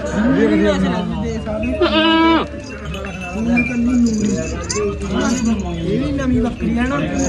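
Several goats bleat loudly and repeatedly nearby at a livestock fair, overlapping wavering cries, with people talking in the background.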